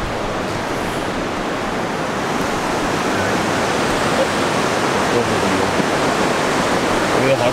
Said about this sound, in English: that's the natural hot spring water.